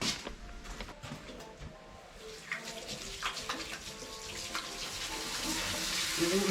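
Strong water gushing from a tap in a public men's restroom at a temple visitor site in Thailand, a steady loud rush with faint clatter, growing slightly louder toward the end.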